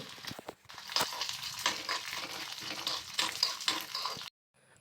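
Urad dal and small onions frying in oil in a pan, a moderate sizzle with brief scraping stirs and crackles, ending in abrupt silence near the close.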